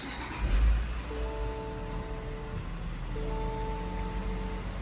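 A 2024 Lexus GX550 SUV engine turns over with a brief thump at the start, then settles into a steady, close idle with a low hum and faint tonal whine.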